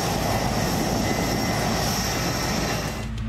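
An A-10C Thunderbolt ground-attack aircraft flies past with a loud, sustained engine roar that stays dense and steady throughout before easing slightly at the very end; no voices are heard.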